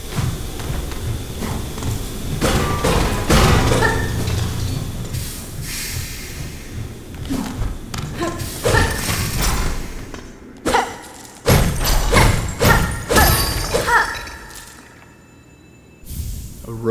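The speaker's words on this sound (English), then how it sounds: "A rosary cannon." A rosary cannon in Hollow Knight Silksong, built from the base of a rosary stringing machine, fires with repeated heavy mechanical thumps and hissing bursts over a busy game soundscape, pausing briefly before another loud volley.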